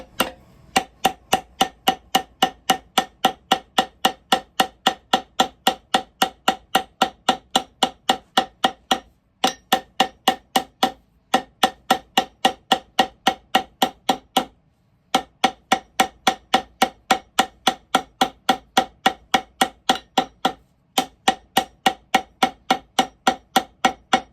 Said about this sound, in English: Let's get back to hammer time.